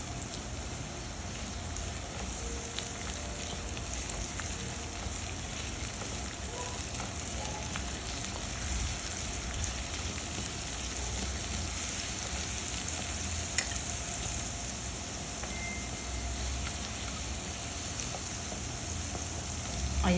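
Pork belly and onions fry in a pan with a soft, steady, rain-like sizzle that stays even and fairly faint throughout, with one brief tap near the middle and no speech.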